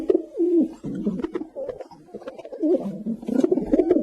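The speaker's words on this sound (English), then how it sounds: "Pigeon, and the sound of pigeon." A pigeon coos in repeated soft, throaty, rolling calls, heard close and clear in a steady series over a few seconds.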